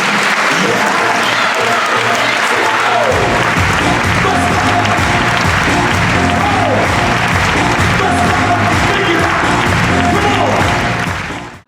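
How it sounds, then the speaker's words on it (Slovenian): Loud, dense applause from a large audience, sustained and continuous from start to finish, with a few voices and a low musical hum underneath. "Bučen aplavz za Alan Green."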